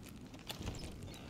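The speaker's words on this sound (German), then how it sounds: "Das Pferd." Horse hooves clip-clop faintly in the video game A Plague Tale: Innocence, a few soft irregular thuds over low ambient background, quiet and brief.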